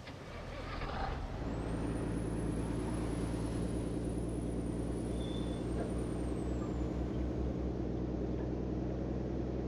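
The air brake of a Volvo F10 truck hauling a 45-tonne load in Euro Truck Simulator 2 releases a loud, sustained hiss of air that sets in after a second and runs steadily for several seconds, topped by a faint high whistle.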